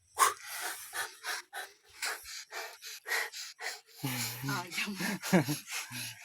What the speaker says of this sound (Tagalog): Hingal yung anak ko.